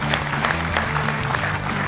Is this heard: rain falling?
no